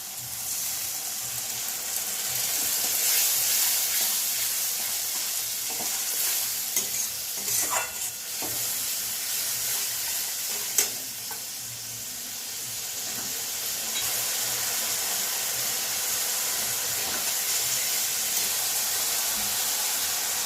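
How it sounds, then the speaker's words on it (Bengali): A soaked paste of cumin, coriander and chilli powder hits a hot pan for duck egg curry, bringing a loud sustained sizzle and steady stirring scrapes with a few sharp spatula knocks. "জিরের গুঁড়ো ধনের গুঁড়ো লঙ্কার গুঁড়ো জল দিয়ে একটু ভিজিয়ে রেখেছিলাম এটা এবার দিয়ে দেবো"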